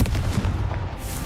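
A Confringo fire spell explodes in Hogwarts Legacy, a deep booming blast up front that rumbles low and fades over about a second.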